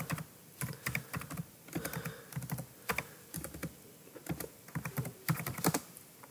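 Computer keyboard typing in quick bursts of clicky keystrokes with short pauses between words, close and fairly quiet, while a folder name is entered; no talking.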